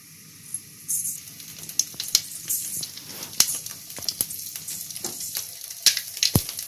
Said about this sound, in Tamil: கடுகு வந்து வெடிச்சிருச்சுங்க.